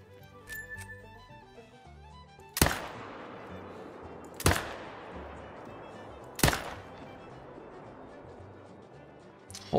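Rifle shots ring out in the hunting game The Hunter: Call of the Wild, three sharp loud reports spaced about two seconds apart, each trailing a long echoing decay over quiet ambient game sound, with a fourth starting at the very end.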